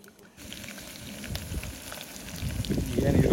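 Onion, beans and carrot sizzling in a pan for a mild pulao at a monsoon campsite, a steady close frying hiss that grows louder toward the end, with a few stirring knocks.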